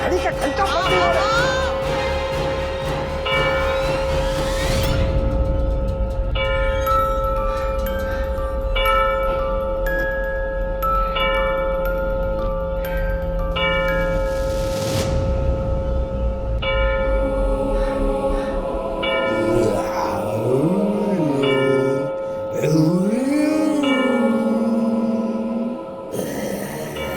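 A clock's bell rings on and on without stopping in a family sitcom scene, a loud, sustained metallic chime with repeated strikes that carries under people talking.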